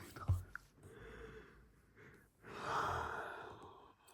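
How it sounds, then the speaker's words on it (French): A person yawns softly up close, with a sharp intake of breath followed by a long, drawn-out exhale and sigh, in a quiet indoor setting. "Si je baille."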